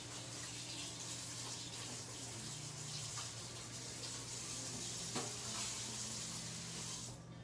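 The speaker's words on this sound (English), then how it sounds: "Rinse off your other two tools because you're definitely going to use both of them right now." Kitchen sink tap running steadily while tools from a new pizza set are rinsed, a close continuous rushing splash with a few brief clinks and shifts in the flow, no talking.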